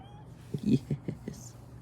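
Short meows from a relaxed pet cat named Fathead, resting in a yard beside an old Geo Prizm being worked on: four or five brief, close voiced calls in a quick run, fairly quiet, with no talk over them.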